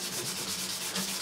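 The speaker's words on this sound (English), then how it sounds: "I can go and take a piece of 400 grit and just go across by hand just to soften anything." Fine 400-grit sandpaper rubbed by hand across the fret area of a Jim Harley GJA ED4C electro-acoustic guitar during a re-fret, a steady, close, continuous scratchy rubbing with quick back-and-forth strokes and no talk.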